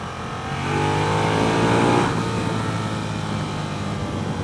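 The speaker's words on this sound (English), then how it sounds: "Very nice exhaust note. It sounds like a muscle car. It sounds like a big V8." A 2015 Ducati Diavel Carbon motorcycle's exhaust revs loudly and steadily up close, rising in a brief surge before settling back into a sustained aggressive drone.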